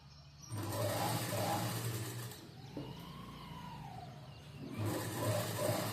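A sewing machine topstitches the neckline of a four-tuck blouse, running in two steady bursts at the start and end with a slower, quieter stretch between, close and alone without talk.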